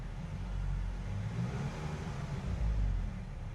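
Low rumbling idle of a repaired 2024 VW GTI engine swelling briefly as the gas is lightly pressed, a steady close drone with no talk.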